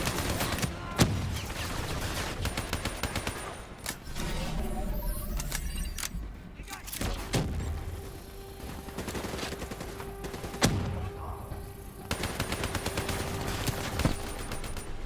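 Dense gunfire from the Call of Duty: Black Ops 3 story campaign, with rapid automatic bursts and repeated sharp shots over a steady roar of combat and engines, loud and close throughout.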